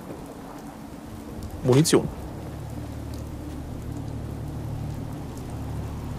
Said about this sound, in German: Ich hab's donnern hören. Und Blitze. Ah, ein schönes Gewitter.